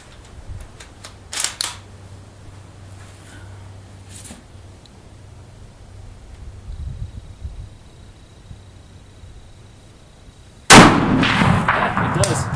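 A Mosin-Nagant rifle fitted with Smith sights fires once, a loud sharp report near the end, after a long stretch of quiet outdoor ambience with a few faint clicks.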